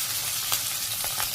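Taro leaves go into a pan of fried hilsa fish in a Bangladeshi village kitchen: a continuous close hiss of sizzling oil, with a few soft stirring scrapes and pops on top.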